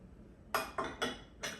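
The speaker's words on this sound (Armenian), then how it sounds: "նորից հարում ենք" A utensil stirs cookie batter in a bowl, producing four quick, close clinks against the side in an uneven rhythm over a quiet background.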